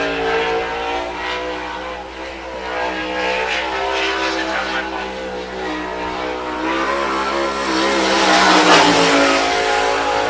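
Sprint race cars at the Great Lakes Sprint Series opener on the I-96 Michigan speedway, engines droning and rising as they accelerate from the green flag, steady and loud with an announcer talking over them.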